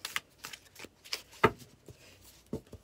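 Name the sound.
shuffling a deck of tarot cards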